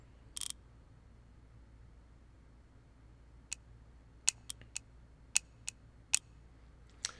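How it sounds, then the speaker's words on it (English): A bolt is tightened on a car in the video game Wrench, giving a short rattle followed by a series of faint, crisp ratchet-like clicks in an otherwise quiet scene. "put the bolt in and tighten it"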